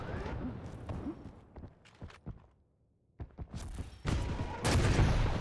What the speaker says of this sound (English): When you get that shotgun spawn, the shotgun can be quite the messy weapon.